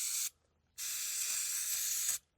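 Two bursts of brake cleaner spraying from an aerosol can on a 2007 Honda Accord Euro, a short hiss followed by a longer steady one, close and bright against a quiet background.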